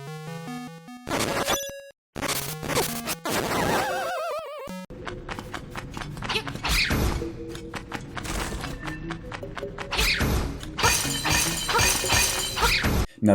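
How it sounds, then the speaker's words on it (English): Crystal mounds shatter under Link's sword in Link's Awakening, a string of bright, glassy breaking crashes mixed with chiming game music and effects, loud and busy throughout with no talking. "There's a lovely shatter sound when Link destroys those crystal mounds with his sword in the original game"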